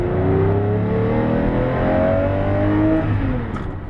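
A Lamborghini Murcielago LP640 with a 6.5-litre V12 revving loudly up close, a rich rising engine howl with climbing harmonic tones that eases off near the end.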